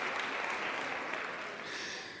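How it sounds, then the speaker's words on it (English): An audience at a women's business conference applauds, a dense and fairly even wash of clapping that holds for about two seconds and then begins to thin. "Yep, a round of applause."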